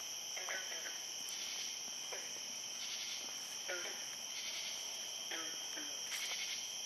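Constant shrill high-pitched chorus with repeated short croaking calls from frogs at an even pace, moderately distant, over a quiet background.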